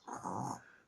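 A brief, soft growl imitating a tiger comes from a human voice, one rough, rumbling burst under a second long, close but fairly quiet.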